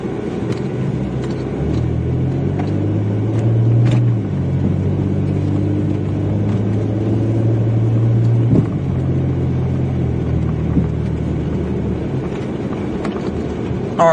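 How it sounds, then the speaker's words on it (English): Car exhaust rumbling low and steady from inside or close by the vehicle, a deep continuous drone with slight swells as it drives, no talk over it. "Listen to that exhaust."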